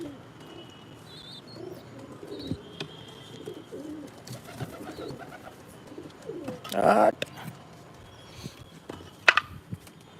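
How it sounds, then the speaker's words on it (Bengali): Pigeons in a home loft at dusk, Madras breed among them, give soft low coos with scattered chirps and faint rustling, mostly quiet with one fuller burst of cooing midway and a brief sharp call near the end. "একটা একটা করে ঢোকাবো পায়রা।"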